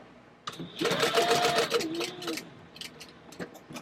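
Sewing machine stitching a craft pattern at stitch length 4, a close, steady whirring mechanical run of about two seconds, then quieter handling clicks afterward.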